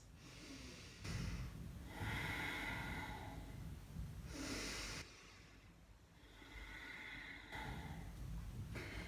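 Slow, deep yoga breathing, close and soft, with long airy inhales and exhales alternating in a steady rhythm and no speech.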